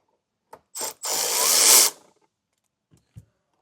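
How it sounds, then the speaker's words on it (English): A power tool buzzes in short bursts to remove a 10mm screw on a Jeep Wrangler, with one longer whirring run of about a second and faint clicks before and after. "Then we have a 10mm screw to remove."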